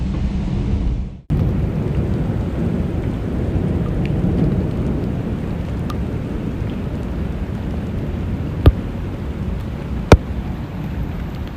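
Heavy hurricane rain roars steadily with gusting wind, a broadband storm wash that cuts in after a brief quiet start, with two sharp thunder-like cracks standing out near the end.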